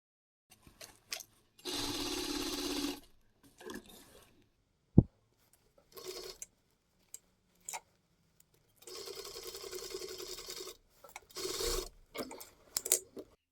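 A sewing machine stitches the seams of a prom dress in two sustained bursts of rapid whirring, separated by quiet pauses filled with fabric handling, clicks and rustles.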